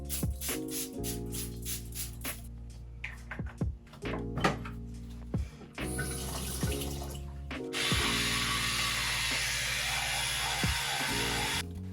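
Water runs from a bathroom tap during a morning wash and tooth-brushing, a steady rushing stream that starts and stops, with clinks and knocks of objects around the sink between bursts and a fuller, louder flow near the end.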